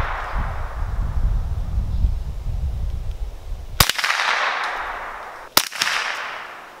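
Two sharp rifle shots from cheap Remington rimfire ammunition at a range, one near 3.8 seconds and another near 5.6, each a loud crack with a brief ringing tail over steady outdoor background noise.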